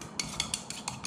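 A shop-made multi-tool stirs paint in a can, giving a quick run of six light metallic scrapes and taps in a steady rhythm, close and clear with no voices.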